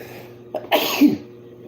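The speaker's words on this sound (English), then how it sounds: "I feel a sneeze coming." One close, abrupt sneeze with a short rough burst of breath, heard alone in a quiet room.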